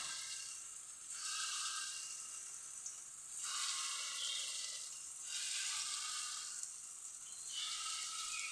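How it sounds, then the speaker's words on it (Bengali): Potato and plantain peel fritters fry in hot oil in a wok, a faint, steady sizzling hiss that swells and eases in slow waves. "এবার বড়াগুলোকে আমি আস্তে আস্তে দিয়ে দেবো, লাল করে ভেজে নেব বড়াগুলো।"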